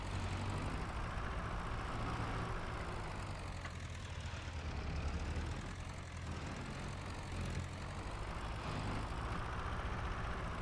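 A tractor engine runs at a steady low rumble throughout a potato-planting job, faint and a little distant, with no one talking.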